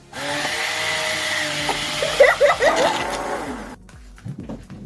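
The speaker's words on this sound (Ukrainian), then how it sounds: "Будемо збивати блендером." A blender whirs steadily at close range, its motor pitch wavering as it churns a thick homemade chocolate spread with cocoa, then cuts off, leaving a few faint clatters.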